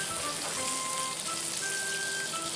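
Chopped garlic frying in butter in a pan, a steady soft sizzle and crackle with faint popping, quiet and continuous, with occasional thin tonal whines in the background.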